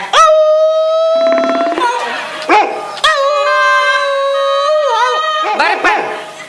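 A performer in a comedy stage play imitates a dog, voicing long, loud wavering howls broken by sharp yelping barks, close and dominant throughout.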